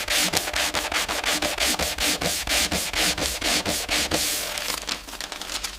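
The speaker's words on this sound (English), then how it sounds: "The metal, now uniformly sanded, is ready for the next stage" Sandpaper rubbing back and forth over the metal receiver of a Mauser rifle during restoration, a steady run of loud, close, rhythmic strokes filling the whole span with no talk.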